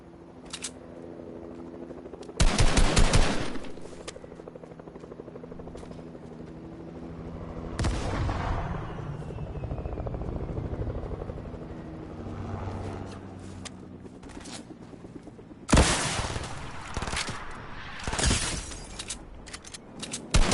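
Gunfire in the video game Fortnite: several sharp broadband shot bursts, loud and spaced apart, with a rapid volley near the end over a steady game-ambience background.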